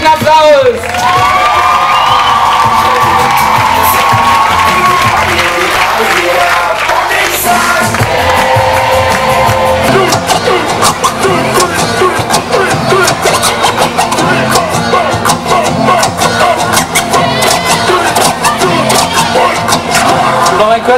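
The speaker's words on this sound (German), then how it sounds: "dann danken wir den Kontrahenten und den Teilnehmern dieses. Der Schub geht voll ab. Dieses Spiels für die Teilnahme einen herzlichen Applaus!" An audience in a tent at a 2004 Abitur graduation ceremony at a Gymnasium in Bad Kissingen breaks into loud, sustained applause and cheering, with whoops and shouts layered over dense clapping throughout.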